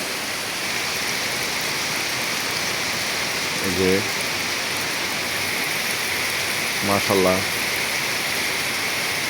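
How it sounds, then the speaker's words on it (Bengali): Continuous steady rainfall hisses throughout, with someone speaking briefly twice over the downpour. "সাত সকালে খুব সুন্দর বৃষ্টি হচ্ছে"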